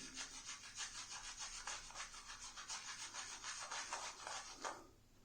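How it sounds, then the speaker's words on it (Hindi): Synthetic shaving brush with a sheesham wooden handle lathering shaving cream, a close, soft, rhythmic swishing and rubbing in quick regular strokes that stop just before the end. "लादरिंग चालू।"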